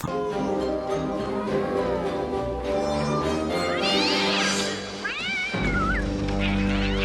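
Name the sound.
cat yowling in Tim Burton film scene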